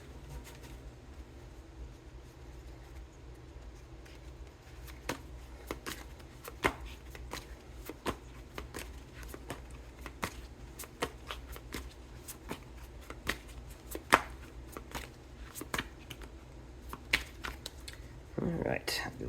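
A deck of tarot cards is shuffled by hand for a Celtic cross spread: a long run of close, crisp card flicks and riffling ticks in uneven bursts, with a brief rustle near the end.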